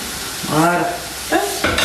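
Food set to cook in a hot pan gives a continuous sizzle, with brief tonal voice-like sounds rising over it twice.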